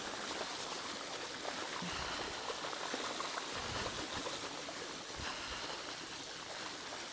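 Flood water rushes along a stream running over a cycle path in a valley, a steady, broadband wash of flowing water throughout, fairly close and without speech.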